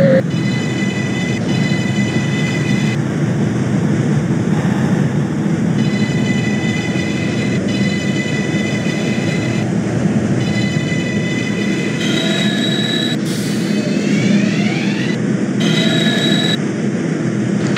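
A video-game simulation of a New York 6 subway train rumbling along the tracks with steady low roar, high whining tones rising and falling, and brief wheel squeals.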